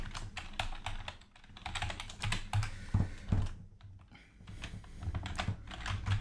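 Rapid keystrokes on a computer keyboard while C code is typed, a steady irregular patter of close clicks with brief pauses and no talking.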